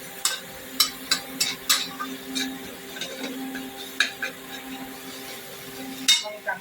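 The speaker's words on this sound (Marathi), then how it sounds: "जरा परतून घेऊया." A chili, garlic, cumin and coriander paste (thecha) stirred in a pan, with a series of sharp scraping clinks of a spatula against metal over a soft low sizzle, irregular strokes spread through, no voices.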